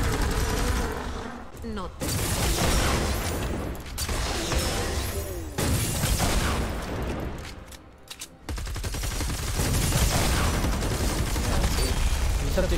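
Rapid automatic gunfire pours into the Storm King boss in Fortnite Save the World, loud and nearly continuous in long bursts with brief pauses, with a voice speaking over the shooting now and then.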